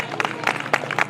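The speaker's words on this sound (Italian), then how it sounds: "Facciamo un applauso a Matteo." A brief burst of applause for the winner at a youth mountain bike race in Laigueglia, a few sharp claps in quick clusters, close and fairly loud.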